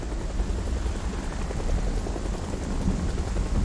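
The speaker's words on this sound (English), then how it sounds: "it's a giant rainstorm" Steady heavy rainstorm in the video game Project Zomboid, a dense, even hiss of falling rain with a low rumbling undertone, continuous and fairly loud, with no talking.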